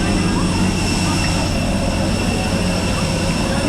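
An airplane at an airport gives off a loud, steady engine roar with a constant hum that fills the whole stretch without a break.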